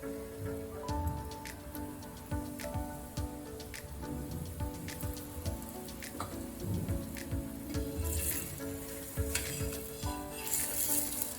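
A corn paratha roasts on a hot pan with oil brushed over it, giving a steady sizzle with light crackling and spatters that grow brighter toward the end, heard up close with no talking.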